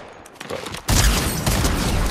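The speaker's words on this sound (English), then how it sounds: "Okay, the only problem with this shotgun is like he has only 3 shots." Shotgun blasts in Fortnite during a BedWars match, with lighter game noises at first and then a loud, sustained burst of booming fire and clatter from about the one-second mark on.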